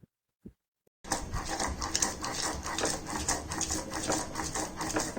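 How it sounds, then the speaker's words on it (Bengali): Fried pointed gourd is ground on a pata, a flat stone, after a brief quiet start: quick rhythmic rasping strokes follow one another steadily at close range. "এরপর বেটে নিব ভাজা পটলগুলো।"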